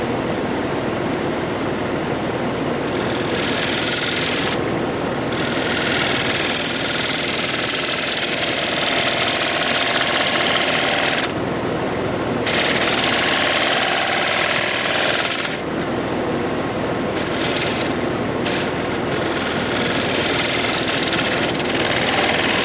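A wood lathe spins a rectangular winged bowl while a tool refines a bead on it. A loud, steady broadband whir runs throughout, with several brief breaks in the cutting noise.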